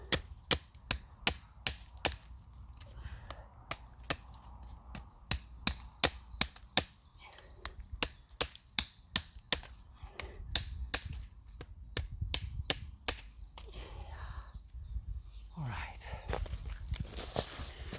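A CS Voyager XL drop point knife chops dry spruce wood outdoors, sharp crisp knocks repeating in quick steady bursts, close and clear, with occasional quiet breathing and a brief spoken comment between strikes.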